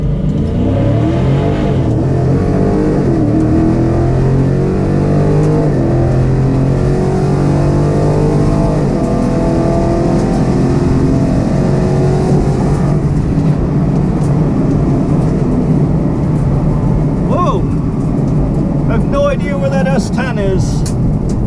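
A 2020 Chevy Camaro ZL1 and a 2020 Dodge Challenger 1320 Scat Pack launch off idle for a quarter-mile run, engines roaring loud and rising steadily in pitch through the gears, with a voice briefly audible.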